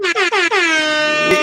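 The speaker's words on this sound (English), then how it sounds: "give you the club air horn." A club-style air horn blasts in three short, sharp bursts, then holds one long, loud tone that fades away. A brief click ends it.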